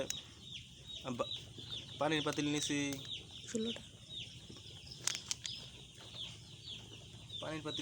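Broiler chicks peep and chirp in a busy, continuous chatter on a poultry farm, with a clucking hen-like call and brief bursts of talk over the top.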